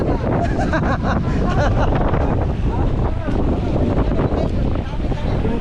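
Strong winds of Typhoon Uwan buffeting the microphone in a dense, constant roar, with voices faintly mixed into the rush.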